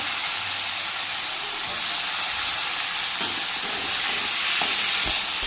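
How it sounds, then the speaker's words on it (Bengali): Chopped onions frying with cumin seeds in a kadai give a steady, close broadband sizzle and hiss, with a few faint stirring clicks near the end and no talking. "এই কড়াতে আমি একটু জিরে ফোড়ন দিয়ে দিলাম, এর মধ্যে কেটে রাখা পেঁয়াজগুলো দিয়ে দেবো ভাজা ভাজা করার জন্য।"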